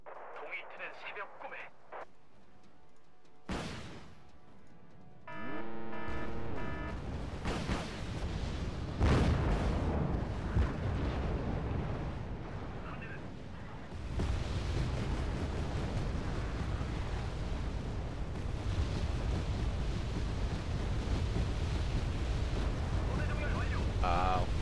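Artillery fire in the WarGame Red Dragon strategy video game, with deep booming blasts and a steady roaring rumble of explosions that fills the scene, a voice talking briefly at the start.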